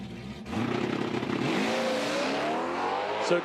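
A 2016 Dodge Hellcat drag car launches alone down the strip, its engine bursting to a loud roar that climbs in pitch through the gears and stays strong.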